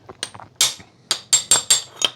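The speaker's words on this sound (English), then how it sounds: "support that piston just for the last whack so we don't break the flipping rings" Sharp metallic hammer blows knock the barrel off a piston on a Citroën 2CV air-cooled flat-twin engine: about seven distinct whacks in quick, uneven succession, close and bright, with small lighter taps between them and no talking.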